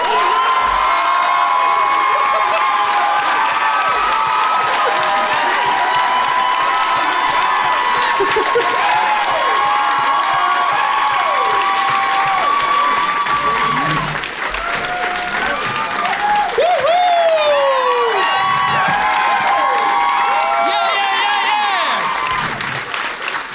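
A live comedy-show audience in Québec applauds and cheers a band taking the stage: sustained loud clapping with whoops and shouts from the crowd, continuous throughout, with a few voices calling out over it.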